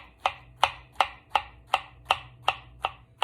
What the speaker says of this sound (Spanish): Lo que le vamos removiendo lo vamos a ir picando así.